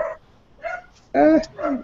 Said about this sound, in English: How loud is my dog right now?